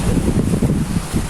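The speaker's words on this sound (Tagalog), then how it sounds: "Hangin." Strong wind buffets the microphone atop a big rock at a beach resort in a continuous loud rumble, gusting unevenly with no voices.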